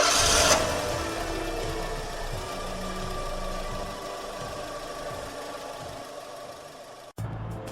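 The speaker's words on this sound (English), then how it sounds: "starts the engine" A car engine idling steadily with a low rumbling, knocking tone that holds constant and then cuts off abruptly near the end.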